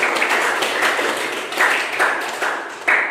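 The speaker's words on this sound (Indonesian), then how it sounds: "Tepuk tangan untuk teman-teman" Classmates give a round of applause in a classroom, a dense close patter of hand claps with a few sharper bursts, no talking over it.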